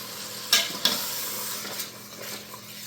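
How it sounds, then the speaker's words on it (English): Homemade tomato sauce is stirred into hamburger meat frying in a pan, giving a steady sizzle with two sharp scraping stirs near the start and softer utensil movements after, close and fairly quiet. "I'm putting a quart of homemade tomato sauce in the hamburger"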